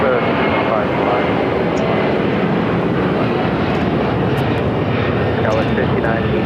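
A fixed-wing airplane at Los Angeles LAX airport makes a loud, steady engine roar that fills the whole stretch without a break. It sounds close and continuous, with no speech in the clip.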